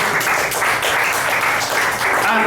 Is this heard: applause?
yes